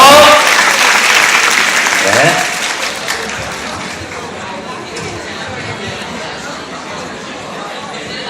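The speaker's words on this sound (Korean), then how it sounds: "여러분 큰 박수로 이제 공연 보도록 하겠습니다. 박수 한번 주세요." A middle school arts festival audience bursts into loud applause that gradually tapers off, leaving a quieter murmur of the room, with a brief spoken word near the start.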